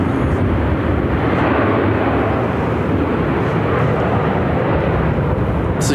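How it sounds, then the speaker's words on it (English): A United Airlines Boeing 737-900ER airliner at Phoenix gives off a loud, steady engine roar, broad and rumbling, filling the whole stretch without pause. "This is United Airlines flight 624 headed to Houston on a 737-900ER."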